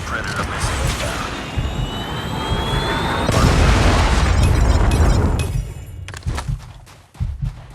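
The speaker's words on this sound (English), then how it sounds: "Friendly Predator missile inbound." A Predator missile strike in the Call of Duty Mobile multiplayer shooter, a loud roaring rush building into a heavy, booming blast that rumbles for a couple of seconds before tailing off beneath game sounds and a voice.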